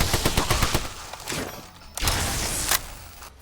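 Rifle chambered in 7.62x54R built on an AK frame, firing in Fallout: New Vegas Lonesome Road: rapid bursts of loud, sharp shots in the first second, then heavier booming blasts with rumbling tails and no talk.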